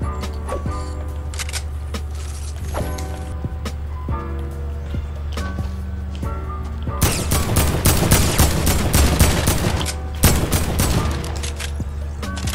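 Heavy assault rifle fire in a first-person shooter video game. Isolated shots and short bursts over a steady game soundscape give way to a dense, loud stretch of rapid automatic fire.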